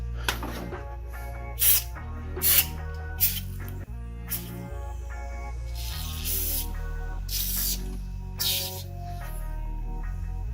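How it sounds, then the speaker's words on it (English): Repeated bursts of aerosol engine degreaser spraying onto an engine, short and long hisses, over a loud continuous backdrop of music. "we're going to soak it up with some of the aerosol spray"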